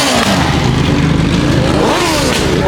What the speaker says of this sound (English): I think it was a motorcycle.